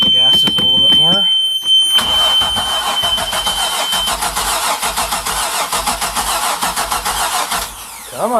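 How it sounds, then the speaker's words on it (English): A boat engine cranking in the cold, a loud rhythmic starter churn running for several seconds after a person speaks, with a high tone ringing through the first half. "we're going to turn the key and watch her fire up"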